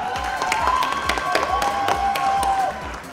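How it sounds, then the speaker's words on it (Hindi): A studio audience on the Dance India Dance launch show applauds and cheers for Kareena Kapoor Khan. Loud, steady clapping is mixed with sustained whooping voices, then drops off slightly near the end. "तालियां रुकनी नहीं चाहिए for करीना कपूर खान."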